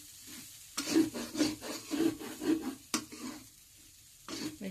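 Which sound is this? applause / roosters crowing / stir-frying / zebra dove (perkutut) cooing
stir-frying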